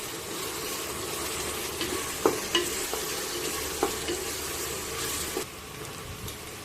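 Sliced onions and curry leaves fry in a pan, a soft continuous sizzle broken by several sharp stirring scrapes and clicks of a spoon against the pan.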